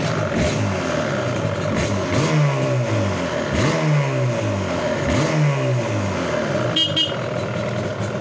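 A Yamaha RD350 LC YPVS two-stroke motorcycle engine runs and revs repeatedly, its pitch rising and falling through several blips, loud and close with a steady rough idle underneath.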